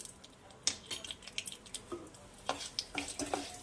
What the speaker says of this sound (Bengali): আচ্ছা, এবার দিয়ে দেবো একটু মেথি।